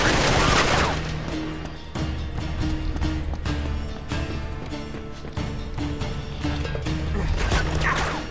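Bursts of gunfire and clattering impacts from Uncharted 3: Drake's Deception Remastered, rapid repeated shots with crashes in a busy combat scene, fairly loud and close.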